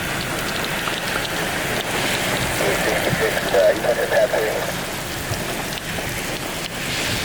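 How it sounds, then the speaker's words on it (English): Heavy rain pours steadily at Cleveland Hopkins airport during a thunderstorm, a dense continuous hiss that holds through the whole stretch while a voice speaks over it. "The heavy rains begin to fall here in Cleveland."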